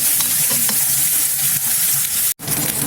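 Spam slices frying in a pan give off a loud, dense, continuous sizzle and crackle close up, broken only by a brief dropout near the end.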